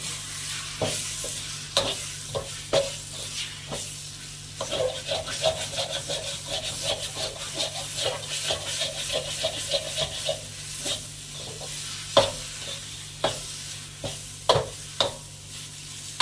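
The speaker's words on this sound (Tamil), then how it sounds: "இப்போ இந்த கொத்தமல்லி சேர்த்து பெரட்டு" Coriander is stirred into sizzling paruppu usili in a pan, with a steady fry hiss and repeated sharp spatula scrapes and knocks against the pan, close and without talking.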